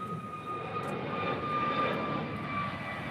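Jet airliner taking off from runway 25 right at LAX, a steady loud engine roar with whining tones running throughout, no voices.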